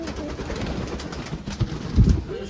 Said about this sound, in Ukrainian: Це молоденький голуб.